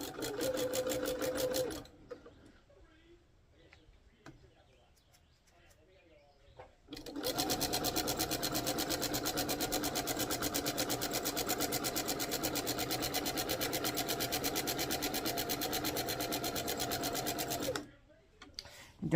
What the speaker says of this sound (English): Don't be afraid to try and quilt on your domestic machine.